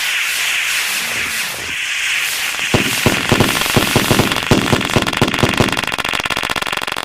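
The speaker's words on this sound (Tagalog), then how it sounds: "Fireworks po mga tol. Fireworks." Consumer fireworks go off in a fast crackling string of sharp, loud pops and bangs, a dense rapid volley that follows a quieter fizzing build-up.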